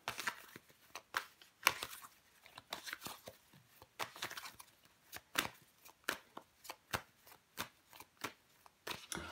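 Tarot cards handled and laid out, quiet close-up flicks, slides and papery taps in an irregular rhythm, faint and alone.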